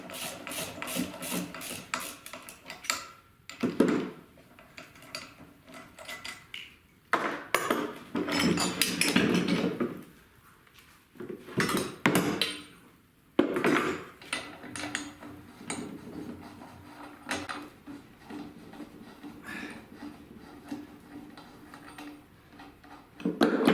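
Ratchet wrench clicks and clanks as the rear hub nut on a Triumph TR3 is undone, coming in bursts of rapid ticking separated by pauses, close and fairly loud.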